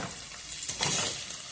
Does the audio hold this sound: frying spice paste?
yes